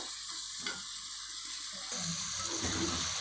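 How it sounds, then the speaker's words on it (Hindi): Water pours into a pan of sautéed potato and pea curry (aloo matar) cooked village style, a steady splashing rush that shifts into bubbling sizzle as it meets the hot spices, with no talk. "अब इसमें पानी डालेंगे। इतना पानी डालेंगे कि आलू मटर जो है वो गाल जाए।"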